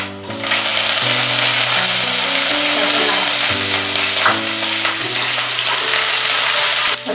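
Whole cardamom, cinnamon, cumin and curry leaves frying in hot oil for mushroom masala, a steady broadband sizzle running loud and close throughout with a faint tonal hum beneath and no talking.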